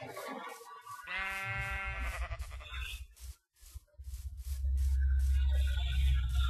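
A single sheep in Minecraft gives a clear, wavering bleat near the start, followed by quieter game sounds and a low, rumbling ambient hum toward the end.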